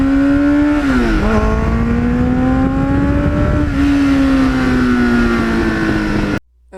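A 1989 Kawasaki GPX750R motorcycle with a Muzzy muffler runs loud and close, its exhaust note dipping and climbing steadily before cutting off abruptly at the end.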